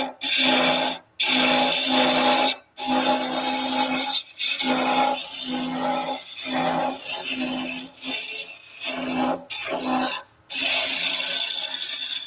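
A chisel shears wood on a lathe while a spinning top is being turned. It makes a steady, raspy hiss in repeated passes, each a few seconds long with short pauses between them. The sound is close and alone, with no talking.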